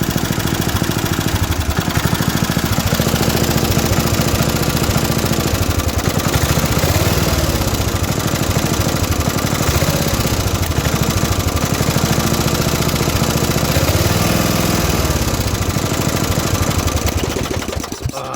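A vintage MTD ride-on mower's small engine idling steadily, loud and close, a constant rough mechanical drone with a fast pulsing beat throughout, alone without voices.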